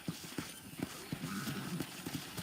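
On a ranch in the Red Dead Redemption video game, horse hooves clip-clop in a steady walking rhythm at moderate distance, with faint game ambience underneath.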